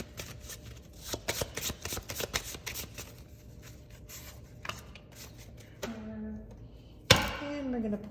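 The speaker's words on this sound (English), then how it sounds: "We're going to shuffle the tarot." Tarot cards are shuffled close up in a rapid series of crisp riffling bursts, then quieter handling and a sharp tap, with a voice briefly heard near the end.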